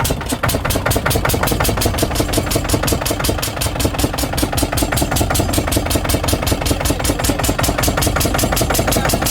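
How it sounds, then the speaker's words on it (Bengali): A boat engine runs steadily on a river near the Assam border, a loud continuous mechanical chug with a fast regular pulse that holds even throughout, with no voices heard. "আমাদের ইঞ্জিন বোট চলছে।"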